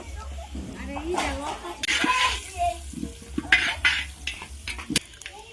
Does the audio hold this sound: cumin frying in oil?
yes